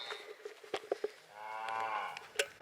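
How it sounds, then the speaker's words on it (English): Three bull calves moo on a livestock trailer, one long drawn-out bellow dominating the middle while shorter calls and knocks sound before and after it, close and fairly loud. "So we got 3 bull calves on the trailer."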